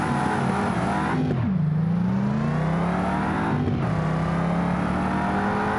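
A Mercedes-AMG S63 engine in the driving game BeamNG.drive revs steadily and loudly, with two sharp dips and rises in pitch as it shifts or lifts off, then climbs again.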